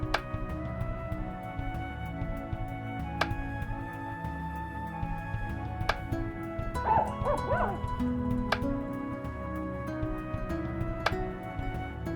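Dog barks, yips and whimpers in a Nancy Drew video game, a few short bursts mid-clip over steady game background hum and occasional ticking clicks.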